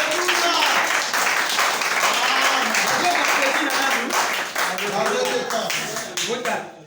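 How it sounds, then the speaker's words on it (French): Applause from a church congregation, a dense, steady wash of many hands clapping throughout, with voices and crowd murmur mixed in, easing off slightly near the end. "L'assemblée applaudit."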